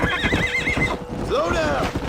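A horse in the Western video game Red Dead Redemption gives a loud, close whinny with a wavering call, followed by a second rising neigh over steady hoof clip-clops and background game sound.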